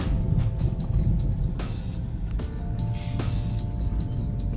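A car drives steadily through a residential neighborhood, its low engine and road rumble forming a loud, continuous drone heard from inside the cabin, with faint ticking and a few brief sharper bumps.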